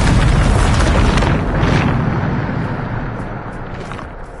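Bombarda blasting spell detonating in Hogwarts Legacy, a loud booming explosion that hits at once and rolls on as a long, slowly fading rumble with crackling debris, no voices over it.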